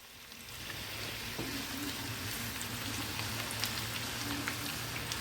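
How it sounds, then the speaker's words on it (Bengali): Potato pieces deep-fry in hot oil over a high gas flame, giving a dense, even crackling hiss that holds steady and close throughout, with no talking. "2 থেকে 3 মিনিটের মধ্যেই এই আলুটা আমাদের ভাজা হয়ে যাবে।"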